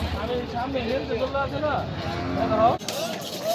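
Cattle low at the Hazratpur cattle market, where Qurbani cows are being sold. The moos sit among close, busy talk from traders and buyers.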